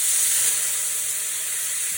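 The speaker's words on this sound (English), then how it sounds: "now what we're going to do is we're going to deglaze. A little bit of red wine." Red wine hits a hot pan to deglaze it after searing a prime rib roast, making a loud, steady, close sizzling hiss that holds evenly throughout.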